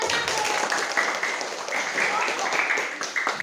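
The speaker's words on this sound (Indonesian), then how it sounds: "Aplaus buat kelompok 1" A classroom group of students applauding for group 1, dense steady clapping from many hands nearby that holds for several seconds with chatter mixed underneath.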